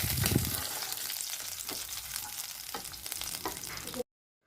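Chicken pieces deep-frying in hot oil for Kannur-style chicken banki, a steady bright sizzle with occasional louder crackles and stirring scrapes, close and continuous before cutting off abruptly.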